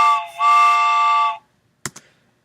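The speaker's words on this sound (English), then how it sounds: "And then finally there is train, that sounds like this." A built-in MATLAB train whistle sound effect gives two bright, steady tonal blasts, a short one then a longer one, with a brief clatter after.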